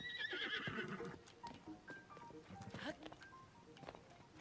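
A horse whinnies loudly in the video game Tears of the Kingdom, a shrill descending neigh at the start followed by snorts and hoof clatter, with someone talking over it.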